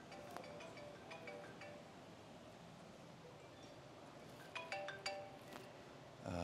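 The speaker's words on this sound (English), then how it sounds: "Sorry folks, phone's ring." A phone ringtone chimes faintly in a repeating tonal pattern, its short bursts growing more prominent near the end, over quiet rustling background.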